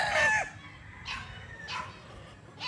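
Boston Roundhead gamefowl rooster crowing at moderate distance, one long crow at the start followed by quieter crowing calls from other birds, with faint background noise.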